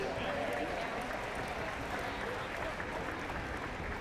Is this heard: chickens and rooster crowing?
no